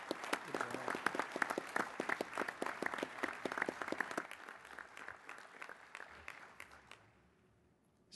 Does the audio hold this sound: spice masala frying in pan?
no